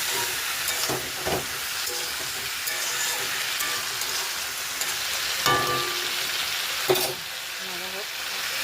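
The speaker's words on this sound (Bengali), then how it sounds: "মাছের তেল দিয়ে পেঁয়াজ কলি আলু ভাজা" Potatoes and onion stalks fry together in fish oil with salt and turmeric, making a continuous loud sizzle broken by a few sharp clacks and scrapes of stirring.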